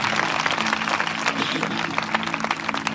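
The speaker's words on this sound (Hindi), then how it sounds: "क्यों ना ताली बजाकर इस अद्भुत किताब के लिए धन्यवाद दें" A church congregation at a 2024 fellowship convention in Gangapur claps together in a dense burst of applause filling the hall, close and fairly loud, with a voice faintly mixed in.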